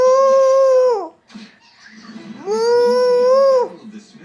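A young child imitates a cow with two long, loud moos separated by a short pause, voiced up close with no other sound around them.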